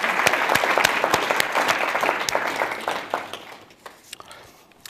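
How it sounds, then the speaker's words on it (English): An audience at an awards ceremony applauds steadily for several seconds, the clapping fading away to a few scattered claps at the end. "we would like to give him a round of applause for his contributions to audio coding"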